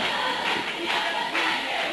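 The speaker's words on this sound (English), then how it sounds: "Cheyenne Wells cheerleaders firing up their crowd as they try to drive their team on" Cheerleaders chanting and firing up the crowd at a boys high school basketball championship game in a gym, a loud sustained roar of voices and rhythmic shouting up close, with no distinct speech.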